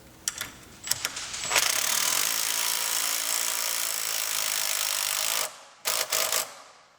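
A high-torque drill whirs steadily for several seconds under load driving a screw, after a few quick clicks, then stops with a couple of short bursts at the end.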